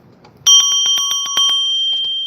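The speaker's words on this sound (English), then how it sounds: "I'm gonna hit the bell." A small bell is struck once and rings out clearly, a bright sustained metallic tone with rapid shimmering pulses that slowly fades, loud and close against an otherwise quiet background.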